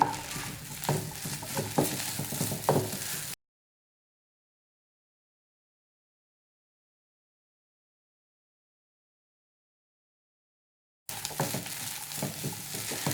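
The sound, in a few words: stir-frying green peas and egg in a pan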